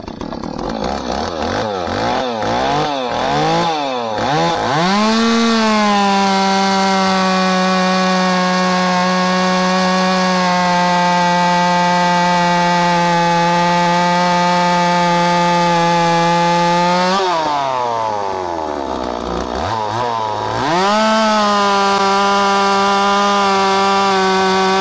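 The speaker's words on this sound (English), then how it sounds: "Stihl 26 test cut, be the same chain and bar as the other one." A Stihl 026 chainsaw with a muffler mod, fitted with the same chain and bar as before, revs up several times, then bites into wood for a long, steady, loud cut. It drops back to idle, then revs again and starts a second cut.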